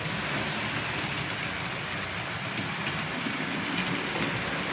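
A model railway train runs along its layout track in a steady, continuous rumble with faint clicking, close by and without talk.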